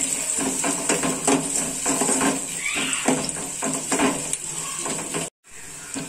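Onions and garlic are sautéed in a pan for sundakkai puli kulambu, with a steady frying hiss under repeated, uneven scrapes and clicks of a spatula stirring against the pan, close and clear.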